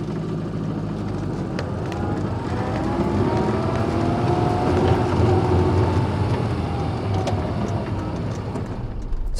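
Austin Metro car on the move, a steady broad rumble of engine and road noise swelling slightly midway, with no talking.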